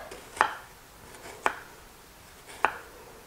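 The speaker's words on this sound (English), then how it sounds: "drag the knife through it 3/4 of the way through, 1 slice. And then just pull your knife through. It'll make perfect dices." A knife dicing an onion on a cutting board, three crisp distinct chops spaced about a second apart, close and clear against a quiet kitchen background.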